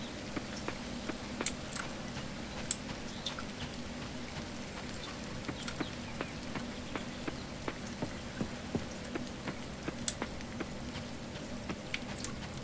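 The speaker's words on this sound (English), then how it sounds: "Oh, it's raining." Light rain in the video game Coral Island patters softly, with scattered distinct drops ticking over a quiet, low background hiss; no talking.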